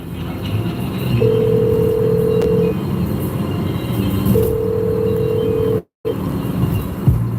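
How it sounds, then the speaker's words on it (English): An outgoing telephone call rings through, with two long, steady ringback tones heard under a constant background hum and a brief cutout before the line connects. "So get your ass to dialing."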